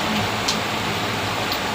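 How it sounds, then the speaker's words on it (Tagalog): Heavy typhoon rain falls as a dense, steady hiss, loud and continuous throughout with no breaks and no talk over it. "Almost yung lakas ng ulan dahil sa bagyo."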